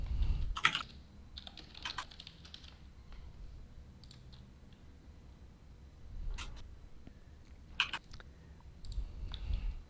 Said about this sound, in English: The way your microphone cuts in and out when you're typing, it sounds like you're going letter, letter, letter, letter.